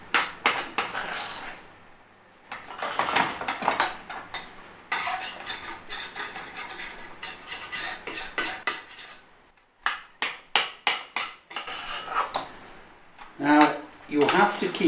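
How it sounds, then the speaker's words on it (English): A spoon scrapes and clinks around a pan as curry paste with coconut milk cooks, in bursts of close metallic stirring separated by short pauses. A voice is also heard. "we've got to give it a good stirring in as it's cooking through"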